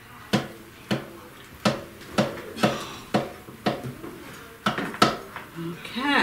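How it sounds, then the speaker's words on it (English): A knife cuts through a pan of lazy man's lasagna, tapping and knocking against the dish in about a dozen sharp, fairly regular clicks, close by, ending with a softer scrape as a piece is lifted onto a plate. "So I'm gonna cut a piece of that, put it on this plate"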